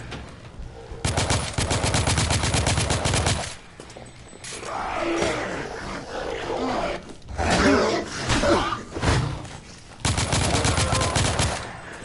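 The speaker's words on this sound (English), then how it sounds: "What is this, like the most powerful revolver and it just took those 2 shots like it was nothing?" Powerful revolver shots and rapid gunfire in the video game The Order 1886, loud dense bursts broken by a few short lulls, with rumbling and impact noise between volleys.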